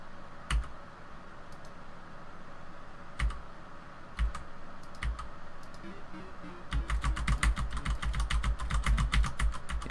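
Keys on a computer keyboard are pressed while a video game sits frozen. A few isolated taps come over a steady background hum, then a fast run of clattering presses near the end.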